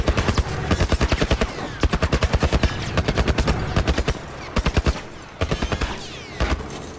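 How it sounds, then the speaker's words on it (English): Rapid automatic gunfire in The Last of Us, long rhythmic bursts of evenly spaced shots hammering close and loud, broken by short pauses. "Bro, he's already shooting me."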